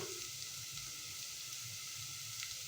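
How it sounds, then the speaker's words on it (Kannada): Pieces of sweet pumpkin fry in a pan for a pumpkin palya, giving a faint, even sizzling hiss that holds steady throughout, with no voices. "ಇವಾಗ ಸಿಹಿ ಕುಂಬಳಕಾಯಿನ ಹಾಕೋಣ"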